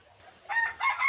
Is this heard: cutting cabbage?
no